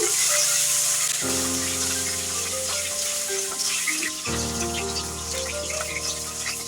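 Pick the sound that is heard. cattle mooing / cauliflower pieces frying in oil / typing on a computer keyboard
cauliflower pieces frying in oil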